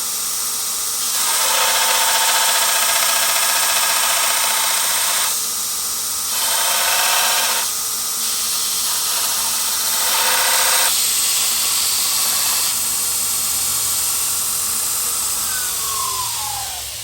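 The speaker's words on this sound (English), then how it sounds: "Take it over to the sander and sand that off." A custom metal shock mount for a Jeep is sanded on a power sander. A loud, close grinding whine runs throughout and rises in several bursts as the metal is pressed against it, with no talking.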